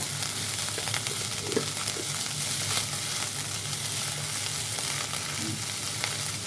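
Seafood fried rice sizzles and crackles steadily in a hot pan with dried fried garlic, a continuous close frying hiss with faint scraping from stirring, no talk.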